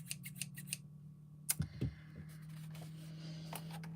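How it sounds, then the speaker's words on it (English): Big scissors snip through card while a chocolate orange gift box is made, giving a few quiet, crisp cuts close by in an otherwise hushed room. "so in come the big scissors, especially for Esther."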